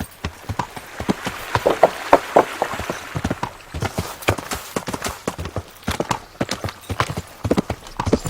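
Horse hooves clip-clopping in Kingdom Come: Deliverance, a quick irregular trot of close, crisp hoofbeats with occasional brief voice sounds.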